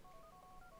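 A quick run of dial-tone beeps as a phone is dialed in GTA IV, faint and brief, lasting under a second with no speech.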